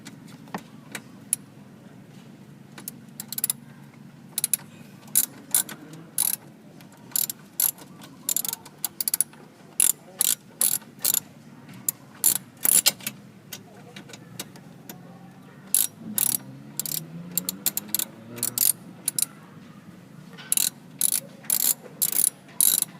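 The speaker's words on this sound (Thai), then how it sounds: "โดยตรงนี้เรา จะใช้เป็นประแจเบอร์สิบนะครับ ในการขัน" A 10 mm wrench tightens a fitting behind a Honda BR-V dashboard screen, giving repeated sharp ratcheting clicks in bursts over a low hum, with short pauses between the runs of turns.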